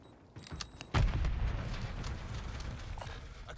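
Gunfire in the Warzone 3 battle royale game, a sharp loud burst of shots followed by sustained rumbling, crackling combat noise with scattered distant pops.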